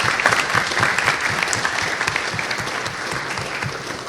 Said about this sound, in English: Let's give all of our administrators a big round of applause for their nice words of support for the retirees.